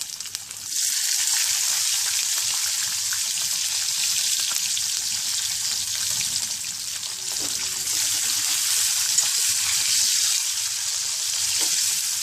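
Ginger and onion pieces frying in a pan for wheat rava upma, with green chillies, giving a steady, fairly loud broadband sizzle that holds unbroken for about twelve seconds after a quiet start.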